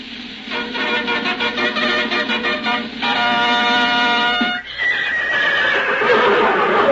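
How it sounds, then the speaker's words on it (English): A horse whinnies loudly in an old-time radio sound effect from a 1932 drama, a long, shaking neigh that breaks into high, wavering cries and snorts, close and alone with no talk. "Can't you keep that horse quiet?"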